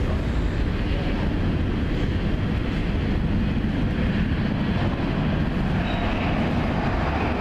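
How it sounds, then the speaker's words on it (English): A loud, continuous low rumble and roar of a London Underground train arriving at Kennington station close by, steady throughout with no voices. "Here comes our train."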